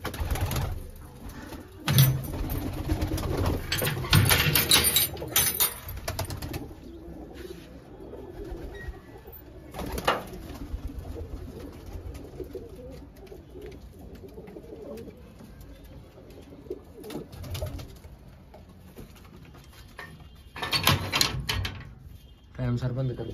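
Pigeons coo and flutter nearby at a farmhouse amid loud people talking and clattering noises, with bursts of activity at the start and end.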